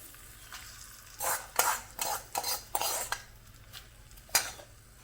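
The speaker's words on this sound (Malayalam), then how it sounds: "ഇനി നമുക്ക് നല്ലപോലെ ഇതിനെ ഇളക്കിയെടുക്കണം" Spoon stirring fried spices into curd in a pot for a Kerala-style curd chilli curry, with a run of irregular scraping and clinking strokes in the middle, close and moderately loud, quieter at the start and end.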